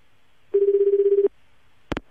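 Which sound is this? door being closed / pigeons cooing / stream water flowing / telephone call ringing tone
telephone call ringing tone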